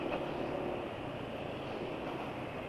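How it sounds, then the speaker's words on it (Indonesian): A continuous rumbling engine drone with an uneven, rough texture from an engine running with cooking oil added to its motor oil, steady in loudness and heard up close with no talking. "Suara mesin sudah kasar ya."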